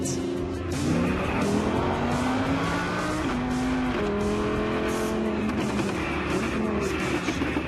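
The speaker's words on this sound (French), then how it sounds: "Alors vous entendez ce petit coup de gaz sur les changements de rapport lorsqu'on rétrograde." An Audi R8 in dynamic mode with open exhaust revs on downshifts, a loud engine whose pitch sweeps up and down with short throttle blips between gear changes, steady and close throughout.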